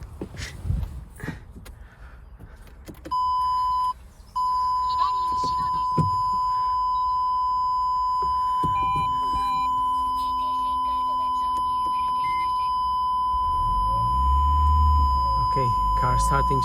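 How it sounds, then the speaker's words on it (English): A steady electronic tone from a 2015 Toyota Prius parking sensor beeps on and off, then holds continuously over a low engine rumble, with faint sounds of movement around it. "Sorry about that noise, that's the parking thing."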